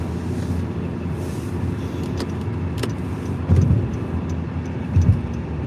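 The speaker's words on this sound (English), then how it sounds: "Swerving in and out of traffic." A car swerving through traffic on a snowy night, with steady low engine and road rumble and a couple of louder swells as it moves along. No one speaks.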